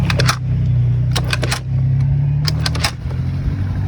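A kick-started scooter engine runs at a steady, throaty idle close by, a continuous low hum with several sharp clicking or rattling bursts layered over it.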